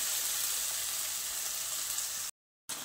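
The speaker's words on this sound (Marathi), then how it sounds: "इथे कांदा परतला केला की त्याच्यामध्ये बारीक कट केलेला टोमॅटो घालायचं। आता हे परतून घ्यायचं।" Onion and finely chopped tomato sauté in a pan for dhaba-style lasooni methi, giving a steady, moderately loud sizzle with no talk, briefly cut by a short gap of silence.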